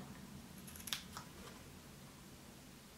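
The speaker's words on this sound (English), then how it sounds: "So I'm gonna cut up in the middle of the paper." Scissors snip through paper while a Christmas card is being made, giving a few quick, quiet cuts close by in a brief burst, with no speech.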